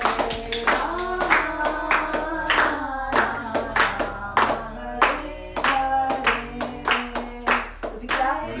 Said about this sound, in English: so we clap.